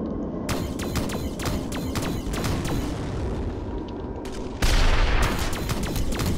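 Grenade launcher fire in a space shooter video game, a string of sharp, irregular cracks over a rumbling engine bed, then a louder, heavier burst of noise near the end.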